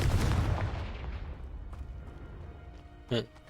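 Confringo, a fiery blasting spell in Hogwarts Legacy on hard mode, goes off with a loud burst that fades away over a couple of seconds. A second, short sharp pop follows near the end.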